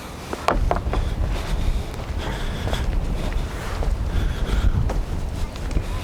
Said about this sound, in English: It's windy down here though.